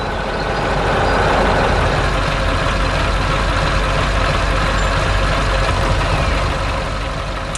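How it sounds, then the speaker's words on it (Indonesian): A heavy yellow truck carrying logs rumbles steadily nearby, a loud continuous low engine drone that holds even throughout with no speech. "Truk berwarna kuning sedang membawa log kayu ke tempat yang sangat cocok."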